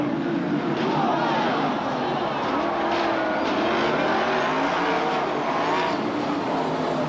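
Sprint cars at a 1990 West Coast race roar past in a dense, continuous engine drone with rising and falling pitch sweeps, loud and sustained as the pack races by, with crowd and track noise underneath.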